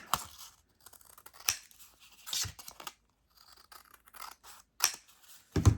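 Scissors snip through paper to frame a small sketch, giving quiet, irregular crisp cuts and rustles with brief gaps between strokes.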